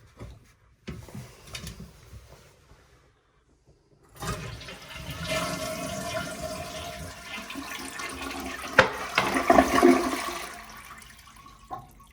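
A household toilet flushes loudly at close range, its rushing swirl of water building and draining over several seconds after a quiet stretch with a few faint clunks, heard alone in a bathroom.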